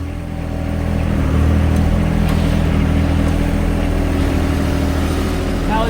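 Compact tractor loader idling, either a John Deere 1025R or a Kubota BX23S, a low, steady diesel rumble held close and constant for the whole stretch.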